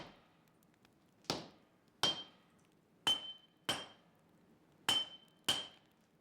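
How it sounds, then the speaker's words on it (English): Hammer blows on hot steel being forged into a Japanese katana: six sharp metallic strikes in an uneven rhythm, several with a bright ringing ping, close and clear with a quiet background between hits. "Heat from the forge and constant hammering flatten the pieces into the building blocks of the new weapon"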